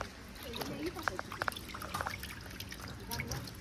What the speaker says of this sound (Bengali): কাটা হয়ে গেছে, এবার মাছগুলোকে সুন্দর করে ধুয়ে নেব।